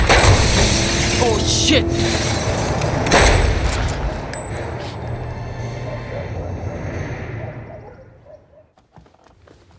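Gunshots in a Hollywood horror thriller dubbed in Hindi: two sharp, loud bangs sound under a busy soundtrack and dialogue, then everything fades to near silence.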